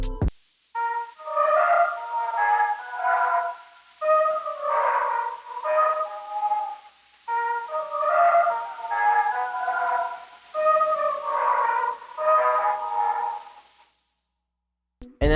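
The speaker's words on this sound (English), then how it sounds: "the next sound I used in this sample was this pad from Farfisa called Lonely Mon" A Farfisa synth pad preset called Lonely Mon plays a slow melody of sustained, layered chords in repeating phrases with short gaps between them, heavily processed with effects and ending in silence.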